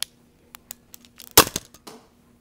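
A modded Nerf blaster fires with a sharp, close snap, surrounded by a few lighter clicks and clacks from handling the toy gun in a quiet room.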